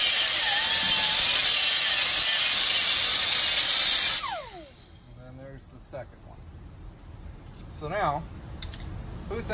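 An SP Tools mini 1/2-inch stubby impact wrench, about 2.95 pounds, drives a heavy 46 mm socket on a big nut on a ProMaster van. It makes a loud, continuous hammering rattle for about four seconds, then stops, and a person talks.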